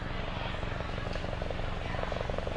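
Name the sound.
helicopter filming night off-road race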